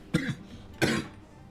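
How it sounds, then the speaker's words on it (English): Two sharp coughs from a man a short distance from the mic, spaced under a second apart, with quiet room noise after. "Got a bit of a cough."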